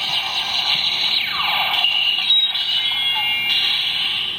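Electronic sound effect from a Power Rangers Ninja Steel Gold Ninja Battle Morpher toy, a steady bright synthetic tone with sweeping, warbling layers held for several seconds at moderate loudness, with no talk over it.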